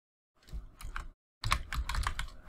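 Quick bursts of typing on a computer keyboard while entering Python code, two short runs of dense clicking separated by a brief pause, close and clear with no talk.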